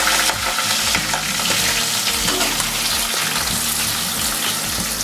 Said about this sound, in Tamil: பெரிய வெங்காயம் போட்டுருக்காங்க.